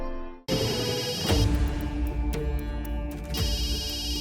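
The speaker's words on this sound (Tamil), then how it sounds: "உங்க ஃபோன் அடிக்குது பாருங்க" A mobile phone starts ringing with a shrill electronic tune after a brief silence, fading behind a swell of music and then returning clearly near the end.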